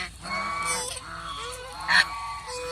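Large domestic geese honk repeatedly on a farm, several nasal calls overlapping at close range with one louder burst near the end, no talking.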